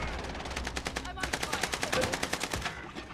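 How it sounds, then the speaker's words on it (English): A grenade launcher fires in Call of Duty Warzone as a fast, evenly spaced run of loud mechanical shots, close and punchy, with a short break before the rhythm starts again. "I just shot him with a grenade launcher"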